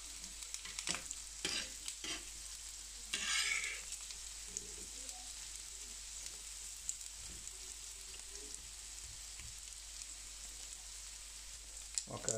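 Bacon frying on a carbon steel griddle over a stovetop, with a steady, faint crackling sizzle throughout and one brief louder burst of spitting. No one speaks.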